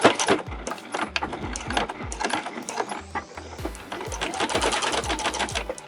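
Close-up sewing machine topstitching fabric in a straight line, with a back stitch: bursts of rapid mechanical clatter interrupted by brief pauses and clicks.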